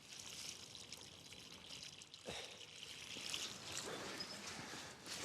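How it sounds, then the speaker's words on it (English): Plants in a garden are being watered, with a soft, steady pour and trickle of water that swells slightly over a few seconds and stays faint and continuous with no talk. "Let's give these a little bit of water."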